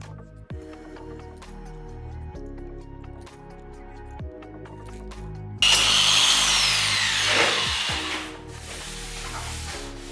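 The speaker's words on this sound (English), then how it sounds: "now I'm going to power carve sand it up to 320 grit" Arbortech Mini Carver power tool sanding a wood piece up to 320 grit, starting with quieter intermittent handling and motor hum, then a loud abrasive grinding burst midway that tapers off into a steady whir.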